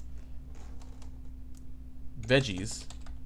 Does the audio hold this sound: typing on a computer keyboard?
yes